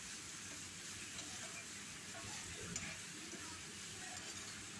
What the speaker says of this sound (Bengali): তো আমি শাকটার মধ্যে নারকেল দিয়ে দিলাম, দিয়ে একটু নেড়ে ছেড়ে নেব।